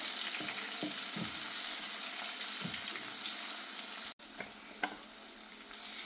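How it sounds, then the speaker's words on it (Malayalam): Chopped tomato fries in a pan, a steady, moderate sizzle with scattered light scrapes of stirring, broken by one brief pause near the end. "ഒരു തക്കാളി കട്ട് ചെയ്തത്, അതിൻ്റെ പച്ചമണം ഒന്ന് പോയി കിട്ടിയിട്ട്"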